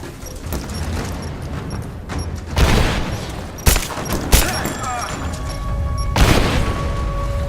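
Grenade blast and gunfire in the Rise of the Tomb Raider video game, in an abandoned mines level: a continuous rumble of fire broken by several sharp, heavy bursts, with a loud boom late in the clip.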